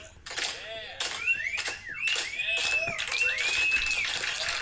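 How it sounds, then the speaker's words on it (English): A slow-clap applause sound effect played back on a podcast: a series of loud, spaced claps at a deliberate pace, with a rising whistling tone layered over them. "Hey, let's see if we can do a slow clap on our clap."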